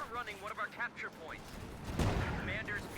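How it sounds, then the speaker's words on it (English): Machine gun fire and distant explosions in Company of Heroes 2, a Wehrmacht versus US Forces match with a pillar-mounted MG42, rattling under game voice lines and a rumbling boom midway. "machine gun firing in as well there"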